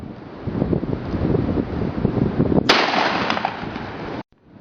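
One sharp gunshot aimed at a bottle in outdoor target practice cracks out midway, loud and close, against steady wind buffeting on the microphone.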